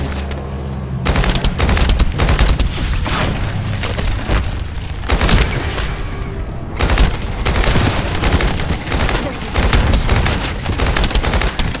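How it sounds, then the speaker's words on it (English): Rifle fire in The First Descendant crackles in dense, rapid bursts for the whole stretch, loud and close, with booming impacts mixed in and little pause. "Like a high damage, crazy good accurate burst rifle."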